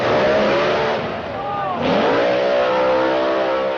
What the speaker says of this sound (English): I just see all these fast cars, the noise, the smoke